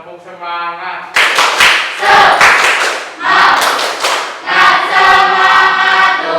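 A class of students performs a rhythmic spirit clap, tepuk semangat: loud, close group clapping in patterned bursts mixed with shouted chanting, following a short spoken lead-in.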